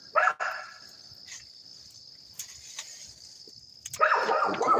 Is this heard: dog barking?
yes